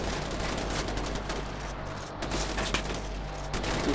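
Gunfire in Far Cry 4, a dense fusillade of rapid shots crackling from a moderate distance at a low level, with no voices during the burst.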